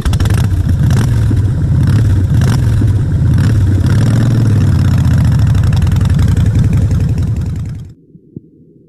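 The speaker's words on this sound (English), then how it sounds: "Motorcycle." A motorcycle engine idles loudly and close, rumbling steadily with slight revs, then cuts off abruptly near the end, leaving near silence.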